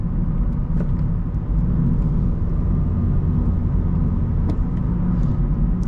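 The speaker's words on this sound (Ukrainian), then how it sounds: "Звук у двигуна є, він не з приємних" A rough-running eighth-generation Honda Civic engine rumbles continuously and fairly loudly with a rough, gritty drone, heard from inside or close by, with no talking.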